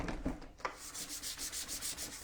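Sandpaper scuffs the surface of a wooden table veneer by hand, making close, steady back-and-forth rasping strokes in a quick even rhythm.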